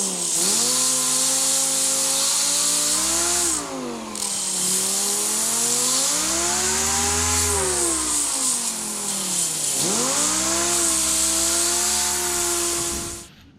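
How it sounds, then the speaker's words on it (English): Dual action sander with 240 grit sanding a car trim panel, a loud continuous motor whine whose pitch dips and rises as pressure changes, with a steady hissing abrasion over it. "I want to run this on my DA."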